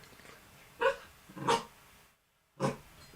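Indoors, a dog gives three short, sharp barks, close and loud, spaced apart with a brief silence before the last one.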